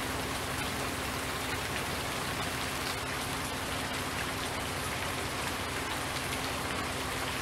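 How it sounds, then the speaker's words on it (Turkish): Rain pours in the video game Farming Simulator 19, a constant, loud, broadband hiss of heavy rainfall with no pauses and no voices over it. "Oğlum bu yağmur sesine çok pis ayar oldum ha."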